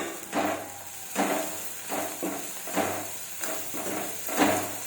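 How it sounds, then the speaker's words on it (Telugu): Pre-fried bitter gourd pieces tossed and stirred in a sizzling pan, with repeated rhythmic scraping strokes, about six in quick succession, over a steady frying hiss. "ఇప్పుడు మనం ముందుగా చేసుకున్న కాకరకాయ ముక్కలు ఫ్రైని ఇందులో వేసుకోవాలి"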